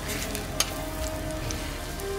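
Hotteok, Korean sweet filled pancakes, fry on a hot griddle with a soft continuous sizzle and faint crackle, low and steady throughout with one small tap.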